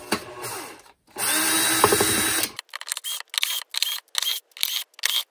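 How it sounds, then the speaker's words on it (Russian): A Makita DCF203 cordless impact driver whirs in short repeated bursts while backing out the screws of its own lower housing, a longer near, loud run followed by a quick series of brief stop-start pulses. "Откручиваю."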